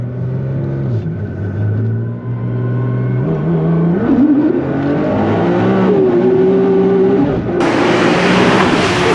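A 2014 Nissan GT-R with 1380 wheel horsepower revs and climbs through its gears, droning loudly and continuously, with a sharp rise in roar near the end.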